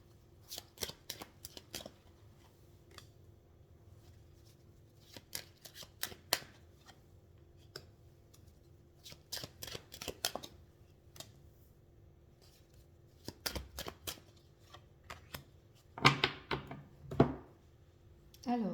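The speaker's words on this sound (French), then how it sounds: "Alors, je vais retourner les cartes," Tarot cards handled and flipped over during a reading, heard as scattered crisp snaps and slides in short bursts with quiet gaps, a denser flurry of card handling near the end.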